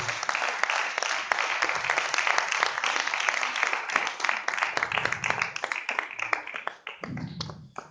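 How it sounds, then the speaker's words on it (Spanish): A church congregation claps loudly at a Spanish-language service, a dense burst of hands that thins toward the end into scattered claps, with a voice briefly heard near the close. "Denle una vuelta de palmas, Señor"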